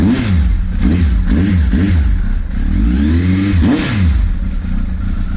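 A 2004 Honda CB1300 motorcycle with an aftermarket exhaust is revved repeatedly near the pipe, several rising and falling blips in a rough rhythm over a loud, steady idle.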